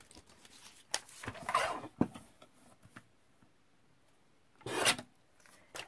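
Quiet, close scissors trim paper on an altered envelope journal, giving a few short rasping cuts in separate bursts with soft rustling between them.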